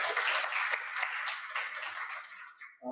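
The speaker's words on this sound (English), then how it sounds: "A little round of applause for Lori." A small crowd at a book launch celebration in a bookstore claps for Lori, a warm, fairly close patter of hands that tapers off near the end, where a voice begins.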